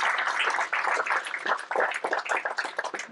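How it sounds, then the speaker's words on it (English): An audience at an NGO panel event gives a sustained round of dense, even applause for the speakers, lasting a few seconds with no pauses. "can we just get another round of applause for everyone who spoke today?"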